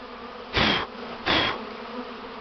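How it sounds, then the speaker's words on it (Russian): Honeybees buzzing at a swarm site during beekeeping, two loud close passes about a second apart as bees fly near, over a faint steady hum. "Вон еще пчелка забилась."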